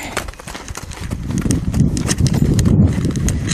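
Steady hoofbeats of a new horse moving around on a lariat line during groundwork, close clip-clopping footfalls that grow louder and denser through the second half.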